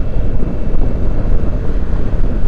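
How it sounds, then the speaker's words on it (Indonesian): Strong crosswind across open rice fields buffets the microphone on a Yamaha XMAX 250 scooter at speed, a steady, loud, low rumbling roar with no voices. "jadi angin dari samping tuh kencang banget"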